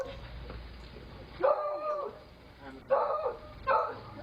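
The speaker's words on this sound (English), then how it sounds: "Hey, get y'all dog." A dog barks three times in a home setting, sharp and fairly close, with background voices and room noise between the barks.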